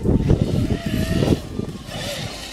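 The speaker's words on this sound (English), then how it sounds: "What a beast of a truck." Traxxas X-Maxx 1/5 scale RC monster truck with upgraded tires driving outdoors on a windy day, its electric motor whining and revving up close, then easing off, with a brief voice nearby.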